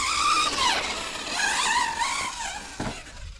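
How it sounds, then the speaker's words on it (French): A Hobao Hyper 10 SC 2.0 four-wheel-drive RC car on a carpet track whines with rising and falling motor pitch as it accelerates and brakes, with a short thump near the end. "On a un freinage bien sûr aussi plus marqué avec le 4x4, puisque les roues avant peuvent freiner."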